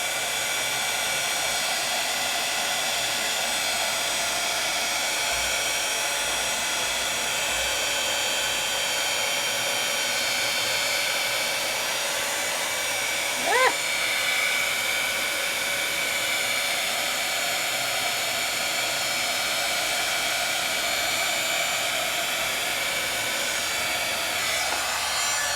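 A heat tool blows a steady, loud whoosh for the whole stretch as it warms a stamped design on rice paper, with a brief faint click partway through.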